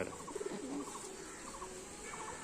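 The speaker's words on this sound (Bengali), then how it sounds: "এটা মাদা পায়রা তাই তো?" Soft cooing of a Madras-type pigeon in a loft, repeated short rounded coos close by and fairly faint, with faint chirps behind.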